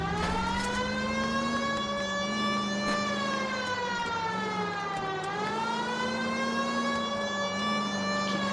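Police car siren in LA Noire, the 1940s-style detective game, wailing continuously and loudly with rising and falling sweeps, close and unbroken throughout, with no talk over it.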